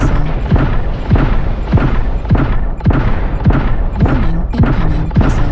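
Repeated heavy booms of incoming missile explosions in the mech combat game MechWarrior Online, loud thuds landing roughly every half second in a dense, continuous barrage.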